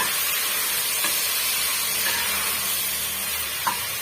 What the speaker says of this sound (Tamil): ஒரு ரெண்டுலேருந்து ஒரு மூணு நிமிஷம் வரைக்கும் வதக்கி விட்டுக்கலாங்க